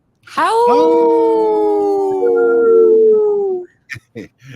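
A single wolf lets out one long, loud, close howl that rises sharply, holds steady with a slight pitch shift, then fades out, followed by a few short yips.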